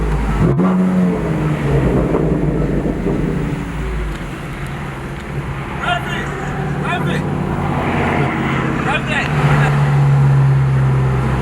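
A BMW M4 GTS driving on the road, its engine a steady loud roar with wind noise over the whole stretch, rising in pitch at moments, while people talk over it throughout.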